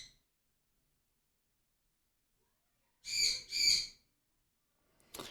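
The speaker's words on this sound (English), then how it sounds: "This bird is known for having a really loud, shrill squawk." Sun conure parrots in another room give two loud, shrill squawks in quick succession, then a brief third call starts at the end, set against otherwise near silence.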